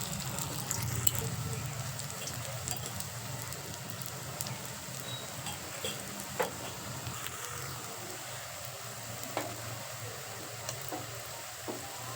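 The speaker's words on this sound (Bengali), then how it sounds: "তেলটা গরম হয়ে গেলে একটা একটা করে বড়ার আকারে তেলের মধ্যে দিয়ে দেবো" Soft, steady sizzling of grass pea lentil fritters frying in hot oil, faint and continuous, with occasional light pops and clicks.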